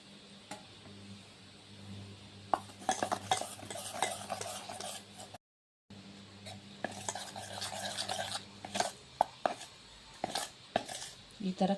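Flour being stirred with ghee in a bowl for homemade Mysore pak, with steady scraping and clinking of a spoon against the bowl and irregular sharp knocks. A brief silent gap falls in the middle.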